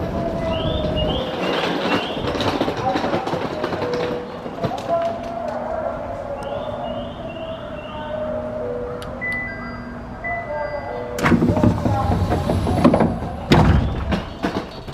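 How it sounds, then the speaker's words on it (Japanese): A train ride toward Shin-Aomori station in Aomori: steady loud rumble of the moving carriage with wheel squeals and door and chime sounds, ending in a louder clatter; people talk over it. "レンタカーを借りるために新青森駅まで電車で向かいます。"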